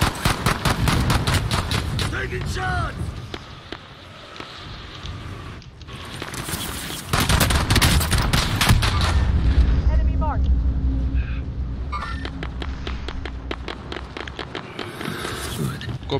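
Gunfire in a multiplayer shooter video game: rapid bursts of automatic shots crackling in long volleys, with pauses and a lull partway through before heavy firing resumes, while players talk over the action.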